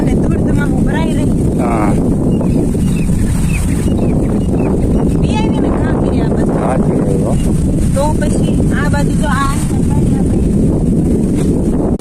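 Strong wind buffets the microphone with a loud, constant roar while people talk through it.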